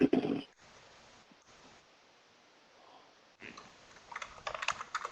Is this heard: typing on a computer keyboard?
yes